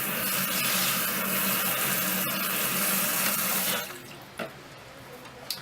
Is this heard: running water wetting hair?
yes